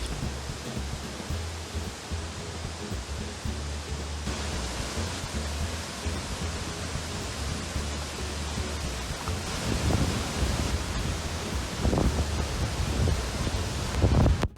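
Steady, dense roar of a waterfall heard up close from a rocky riverbed in Mpumalanga, South Africa, broadband and continuous, with occasional buffeting gusts growing louder toward the end.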